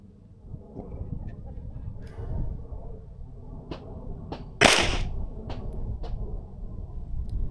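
Handgun fired at 5 yards on an outdoor shooting range, one loud sharp crack followed by several fainter distant shots spaced out over steady low background rumble.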